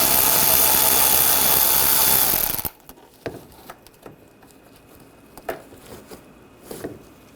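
A power tool with a T20 socket spins a screw out from under the bumper of a Buick Encore 1.4L: one loud, steady whir lasting a couple of seconds that stops abruptly, followed by faint handling clicks and taps.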